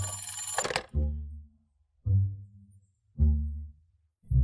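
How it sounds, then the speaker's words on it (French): Telephone bell ringing indoors, a short shrill ring followed by three loud, evenly spaced low buzzing rings about a second apart, close by and alone. "je viens à peine de rentrer, et le téléphone sonne déjà."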